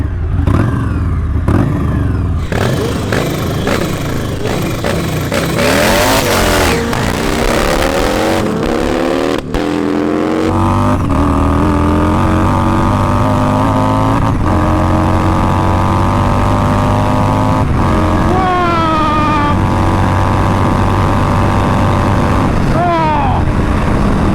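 Two motorcycles, a 250 bhp Honda Fireblade and a 220 bhp Harley-Davidson, launch in a drag race with loud, rising engine roars and rapid revving that sweep upward through the gears, with voices heard over the din.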